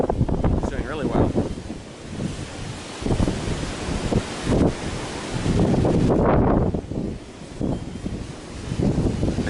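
Strong gusty wind buffets the microphone during a quadcopter flight in rough weather, roaring and surging unevenly throughout, with someone speaking intermittently over it.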